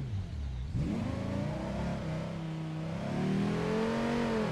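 A luxury two-seat van's V10 engine revs loudly and close, pitch climbing through a long sustained rise, easing, then surging again.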